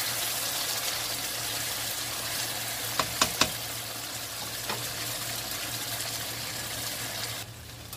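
Mutton karahi sizzles and fries in a pan, a steady loud hiss throughout with a few sharp clinks of a utensil partway through.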